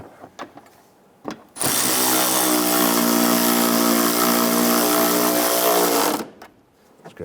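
Power tool snugging down a nut on the driver side exhaust manifold of a 1995-2001 Ford Explorer: one steady, loud whirring run of about four and a half seconds, close by, with faint clicks before and after.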